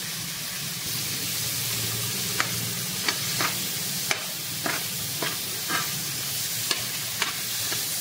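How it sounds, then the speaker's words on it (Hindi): Paneer pieces fry in butter seasoned with red chili powder and salt, a steady close sizzle with a series of sharp clicks and taps as the pieces are placed and turned. "इस तरह से हम सारा पनीर फ्राई कर लेंगे"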